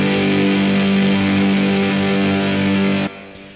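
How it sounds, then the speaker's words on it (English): A hard rock distorted guitar preset in GarageBand holds one loud, sustained, fuzzy chord for about three seconds before cutting off abruptly. "Or you can change it to a hard rock, which sounds much more distorted"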